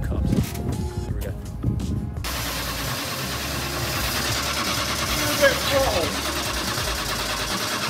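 A car engine running with freshly tweaked carburettors, a steady mid-pitched drone with a slight rev rise, under a brief voice at the start.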